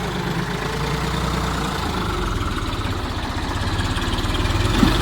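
A tractor engine idles steadily with a low, even chugging throb while a load of manure is filled, close and loud throughout with no voices.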